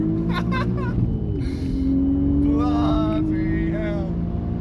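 A 500 bhp Audi RS4 accelerates hard, its engine note rising steadily in pitch as it pulls, with someone talking over the sustained roar from inside the car.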